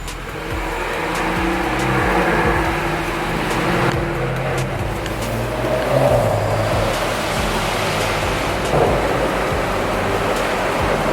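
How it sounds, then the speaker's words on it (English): Exhaust of a BMW F30 burbling and rumbling at night as the throttle is blipped, a close, steady low drone with rising and falling revs and occasional pops. "Right now I'm playing with the pedal to get it to burble."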